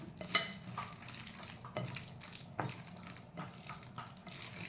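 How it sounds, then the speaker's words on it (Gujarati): Onion and capsicum dal vada batter being mixed by hand in a bowl, quiet wet squelching and stirring with occasional soft taps, faint and close. "અને આ બધું આપણે હાથથી મિક્સ કરી દેવાનું"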